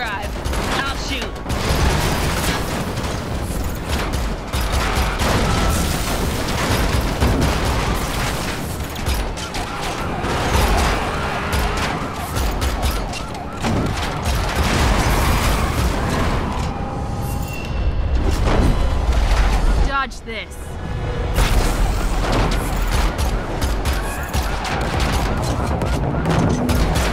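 Sustained gunfire rattles through a car chase shootout in The Matrix Awakens, loud bursts of automatic shots and booming impacts layered over roaring engines and crashes, with a brief lull before the shooting resumes.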